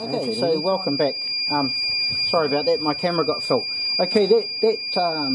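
A low-primer alarm on a Dillon RL550B reloading press, set up for .308 cases, beeps as a steady high-pitched tone in the background while someone talks over it throughout.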